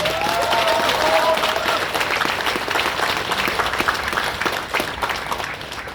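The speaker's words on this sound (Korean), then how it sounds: "여러분도 저와 똑같은 생각이시라면 박수 보내주시기 바랍니다." Sustained applause from a crowd at a Nonsan smart plant completion ceremony, dense and even clapping that fills the whole stretch at steady loudness, with a brief tonal whine near the start.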